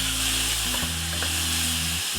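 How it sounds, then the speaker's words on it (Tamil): Chopped onions and tomato sauté in a hot pan for kuska biryani, a steady close sizzle with faint stirring scrapes and a low kitchen hum beneath. "வெங்காயம் கொஞ்சம் வதங்கினதுக்கு அப்புறம் பொடியா நறுக்கி வச்ச ஒரு தக்காளியை சேர்த்துக்கறலாம்."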